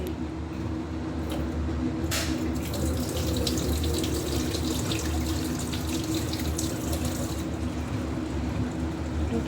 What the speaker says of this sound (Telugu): 2 times అయితే మంచినీళ్ళు పోసినాడు